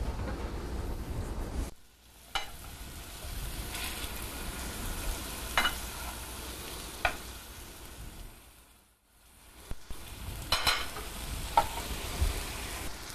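Food frying in olive oil in a pan, browning before baking, with a steady close sizzle and crackle broken by brief stirring clatters and a couple of short quiet gaps.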